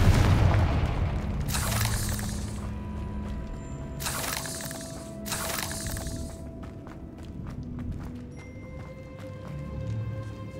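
Fire spell explosions from the Hogwarts Legacy video game ring out in a catacomb. There are three loud booming blasts with bright crackling bursts, one early and two close together later, over a low game ambience.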